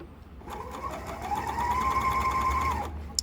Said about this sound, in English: So let's fold this in half and stitch this down.